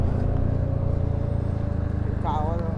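A high-displacement motorcycle engine rumbles steadily and loudly nearby at Lonavala, a deep continuous drone with a short rising whine near the end, with a person talking over it.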